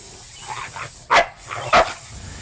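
A 12-month-old puppy with rage syndrome barks and snarls aggressively while latching onto a concealed arm, with two loud, sharp bursts standing out from a rough, agitated background.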